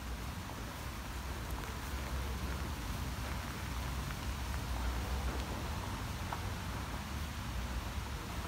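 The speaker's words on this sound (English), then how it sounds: "Oh, here comes the rain." Steady rain falls outdoors around parked police vehicles in Havant, a continuous even hiss of drops on surfaces with no talk.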